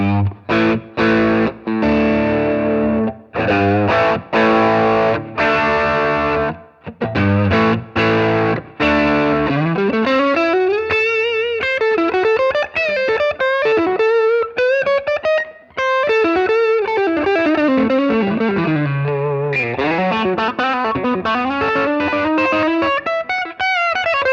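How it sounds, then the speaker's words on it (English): Electric guitar through a Tube Screamer overdrive pedal with the drive set midway, loud chopped chords and then sustained bending lead lines, with no one talking. "let's start with the Tube Screamer. So by itself, now I've got the drive about midway up"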